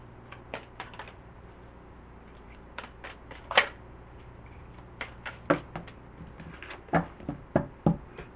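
Tarot cards being shuffled in a quiet room: soft riffling bursts and sharp taps arrive in irregular clusters, close and crisp, with no talking.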